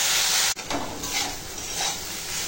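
Arum leaves (ol shak) cooking in a pan, a steady close sizzle and hiss with faint stirring, briefly interrupted by a cut, without talk.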